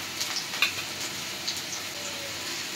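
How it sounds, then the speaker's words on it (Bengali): Spices with salt and ginger garlic paste are sautéed in a pan in a village kitchen, making a steady, close sizzle with faint crackles and a few light stirring scrapes, and no one speaks. "এখন সব মশলাগুলো ভালো করে কষাই নিই।"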